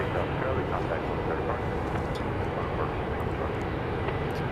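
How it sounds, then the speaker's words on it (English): A Southwest airliner being towed by a tug at Dallas Love Field at night gives a steady low engine and machinery rumble from close below, constant and loud with no breaks. "of a Southwest plane that's being tugged in to get tucked in for the night, just below us"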